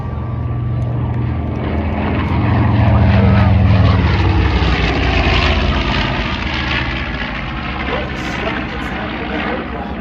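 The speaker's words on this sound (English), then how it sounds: "Lieutenant Colonel Jimmy Doolittle and his raiders took off the USS Hornet and bombed Japan" Propeller aircraft engines roar as planes take off from the carrier USS Hornet during the 1942 Doolittle Raid, a loud, steady rumble that swells slightly midway and holds for about ten seconds.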